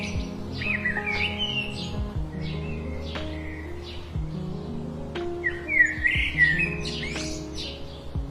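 Cartoon birdsong in a jungle, with bright chirps, tweets and whistled calls recurring across the stretch over a steady tonal music-like bed, fairly close and clear, no talk.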